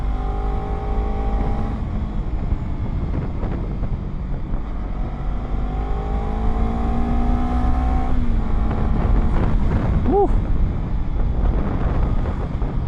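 A car in sport plus mode drives along a winding road, its engine note rising and falling in smooth pitch sweeps beneath steady rumble and wind noise, fairly loud throughout.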